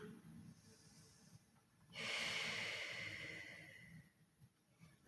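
A single long, breathy exhale during a seated yoga stretch, close and soft, swelling for a few seconds then trailing off, with quiet room sound around it.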